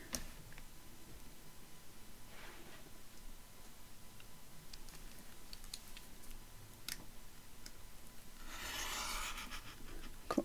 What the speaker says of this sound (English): get the ruler and the knife yet again. Let's cut this out.